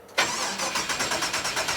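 A Ford F100 truck's V8 engine starts: a brief crank catches into a loud, close, rhythmically pulsing rumble that settles toward idle.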